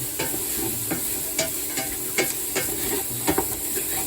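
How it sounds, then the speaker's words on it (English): Onions and garlic sautéing in a pan, a continuous hissing sizzle with scattered scraping stirs and clicks, close and alone without talk. "And as the onions sweat, it should release liquid."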